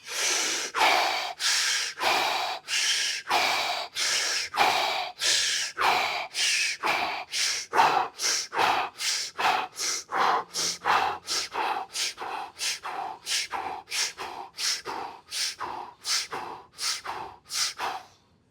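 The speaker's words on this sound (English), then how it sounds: "Bring in and out as much air as you can." Rapid, forceful in-and-out breathing during a tai chi-inspired breathing exercise, dozens of sharp breaths that speed up steadily over the final round, close and loud with no talking.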